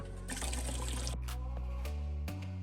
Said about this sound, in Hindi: मैंने इसके लिए यहाँ पे तकरीबन जो है 1 लीटर पानी डाल दिया है